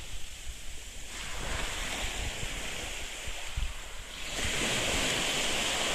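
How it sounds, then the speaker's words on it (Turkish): Continuous rushing sea waves washing in close by on a beach at Yumurtalık, Turkey, with a gust of wind buffeting the microphone and a louder surge near the end. "Ufaktan dalga geliyor."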